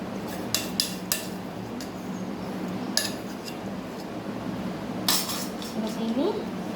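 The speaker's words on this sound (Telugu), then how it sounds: "దీన్ని కలుపుకుందామండి మంచిగా." Mango pickle pieces mixed with warm oil in a bowl, giving a few sharp metallic clinks of a spoon against the bowl amid soft, close rustling and quiet background sounds.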